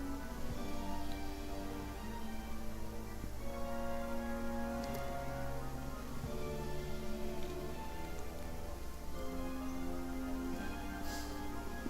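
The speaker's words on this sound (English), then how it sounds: "It's a rainy day." Steady, soft rain falls without a break in the video game The Elder Scrolls: Daggerfall. The patter is even and fairly faint, and a quiet sustained game music tone plays underneath.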